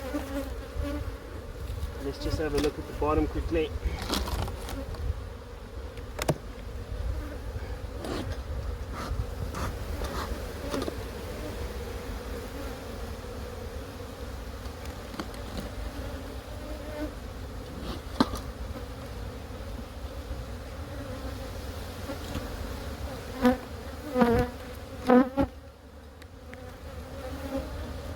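Honeybees droning in an open hive during an inspection, a constant close buzzing hum throughout with occasional sharper passes near the microphone, under brief quiet talk and frame handling.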